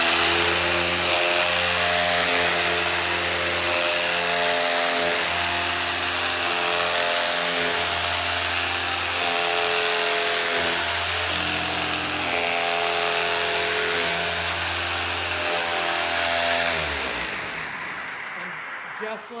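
A power sander stripping two-part varnish from the hull of a 1950 Chris Craft U22 boat, a loud steady motor whine with harmonic drone that holds throughout and cuts off near the end.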